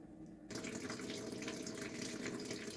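Water drains out of a lawn sprinkler pipe in a steady splashing gush that starts abruptly after a brief quiet moment and keeps running evenly and close.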